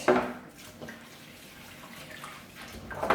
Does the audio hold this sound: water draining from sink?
yes